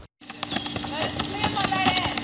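Registered Tennessee walking horse hooves clip-clopping in a steady rhythm, close and fairly loud, with a voice talking over them.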